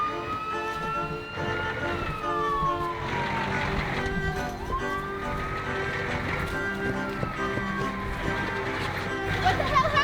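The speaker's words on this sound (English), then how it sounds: "Jake, call an ambulance." An ambulance siren wails in a busy scene, its rising and falling tones sweeping steadily over a constant bed of commotion, with voices talking underneath.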